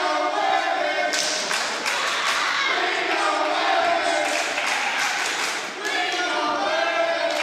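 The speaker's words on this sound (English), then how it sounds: "you see the crowd chanting ring awareness" A wrestling arena crowd at a women's match chants and cheers continuously, a loud, rhythmic swell of many voices with scattered claps and thumps.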